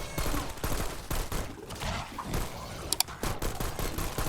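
Rapid gunfire cutting down zombies in Black Ops 6 Zombies, loud close bursts of shots in quick succession with short breaks, and a few sharp game effect sounds mixed in.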